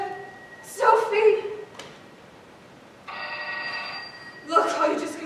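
A telephone rings in a stage play, with short bursts of ringing spread across the moment, close and fairly loud, while actors talk in between.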